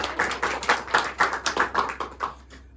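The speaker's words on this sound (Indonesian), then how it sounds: "beri tepuk tangan untuk Mbak Ira dan Mbak Ira" A classroom of students claps for a classmate in a short burst of rhythmic, fairly close clapping, roughly evenly paced beats that fade out toward the end.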